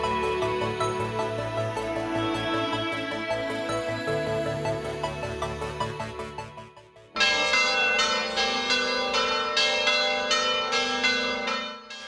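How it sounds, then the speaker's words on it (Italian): Church bells ring at Perarolo, welcoming arriving pilgrims, in a loud, resonant peal with overlapping strikes. Partway through, a different set of bells takes over with clear, evenly spaced rhythmic chimes, and no voices are heard. "al suono delle campane"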